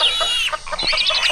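Chickens cluck and squawk close by in quick, busy bursts, several birds overlapping in a short, loud barnyard burst with no talk.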